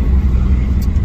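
A Ford Mustang fox body with a 347 engine driving, heard from inside as a loud, steady low engine rumble.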